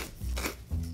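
A pepper mill turned to season burger ingredients, two short grinding crunches close by, quiet and without speech.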